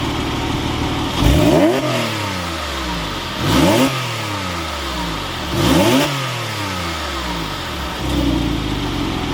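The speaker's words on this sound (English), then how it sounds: "you combine that with the awesome form factors of the sport exhaust here in the Carrera S, which sounds fantastic" Porsche 997 911 Carrera S with sport exhaust revved four times in a row, each sharp blip rising then falling back to a steady idle, loud and close with no voices.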